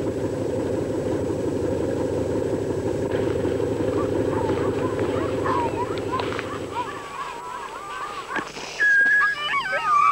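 Sled dogs whimpering and howling over a low engine hum, the rumble dropping away near the end as thin, wavering whines and howls rise.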